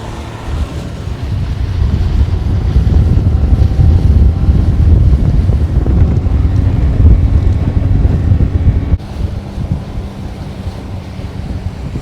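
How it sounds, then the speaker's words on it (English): Strong wind roars across the microphone while riding an IPB skiff powerboat against the wind on open water, a steady low rumble with engine and hull noise, easing slightly near the end. "Going against the wind right now."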